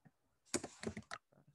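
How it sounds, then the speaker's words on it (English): Quick burst of typing on a computer keyboard, a short cluster of close, crisp key clicks with brief pauses, fairly quiet overall. "Why did I type PSI?"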